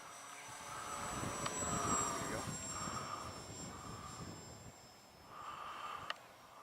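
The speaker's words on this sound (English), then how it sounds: "It is a very light plane." A light Gamma V2 Pro RC trainer plane makes a low pass, its electric motor a steady buzzing whine that rises and falls slightly as it passes at moderate distance, with people talking over it.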